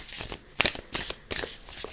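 Tarot cards being shuffled by hand, a quick series of crisp riffling bursts close to the microphone, with no talking.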